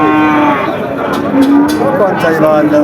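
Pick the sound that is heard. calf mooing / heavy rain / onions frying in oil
calf mooing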